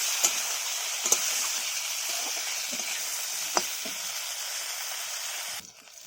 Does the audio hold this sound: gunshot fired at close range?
no